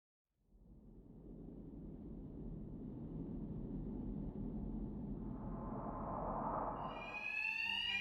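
An alarm blares steadily through a tense stealth encounter in Batman: Arkham Knight, a loud continuous buzzing wash that swells slightly before higher electronic tones cut in near the end.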